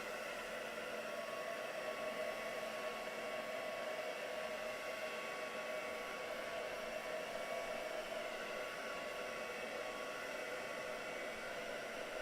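A hair dryer blows a steady, even whir over a freshly painted craft piece, a faint, unbroken hiss of air with no change in pitch and no voices.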